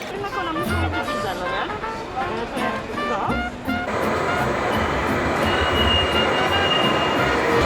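A train pulls into a station in Switzerland, its wheels squealing and carriages rumbling as it draws close and loud, while people talk nearby over the clatter.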